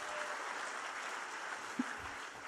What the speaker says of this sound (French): Vous pouvez applaudir, ça sera décompté de son temps de parole.